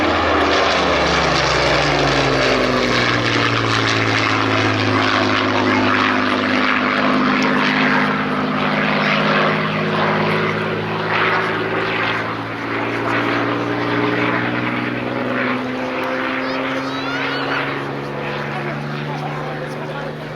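A WWII-era fighter flown by 64 Squadron in 1944 passes over at an airshow, its piston engine and propeller droning loudly with a slowly shifting pitch throughout, while a commentator talks over the roar.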